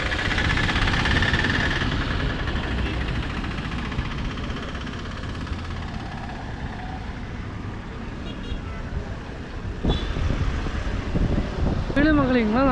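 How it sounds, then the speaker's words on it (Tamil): Strong wind buffets the microphone at the Kutralam waterfalls in Tenkasi, a steady low roar running throughout with brief rustles near the end. "சரியான காற்று அடிக்குது"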